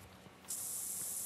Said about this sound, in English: spray ourselves down